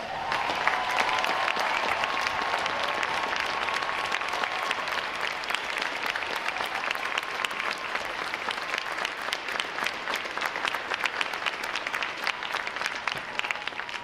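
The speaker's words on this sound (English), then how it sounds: "Would all the veterans please stand so we can give you a round of applause." A large audience at a Navy boot camp graduation gives veterans a sustained round of applause, a dense steady roar of clapping that holds evenly for the whole stretch with a faint crowd murmur beneath.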